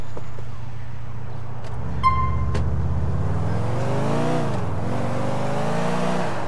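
Car engine in Grand Theft Auto IV, a steady low hum that swells into revving acceleration with rising and dipping pitch, with a brief beeping tone early on and game sounds layered over it.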